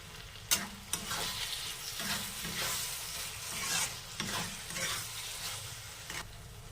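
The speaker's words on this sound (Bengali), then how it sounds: "এবার দিয়ে দেবো খাসির মাংস চর্বিগুলো দিয়ে দেবো।" Goat fat fries in a wok for chickpea ghugni, a close sizzling hiss broken by repeated stirring scrapes and spatula knocks, each stroke rising briefly above the frying.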